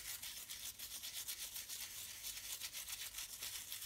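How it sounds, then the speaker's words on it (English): A toothbrush scrubs the rubber underside of an old wood-mounted stamp in water, a steady, rhythmic bristly rubbing in quick back-and-forth strokes, close and quiet, with no talking. "start rubbing the underside of the stamp"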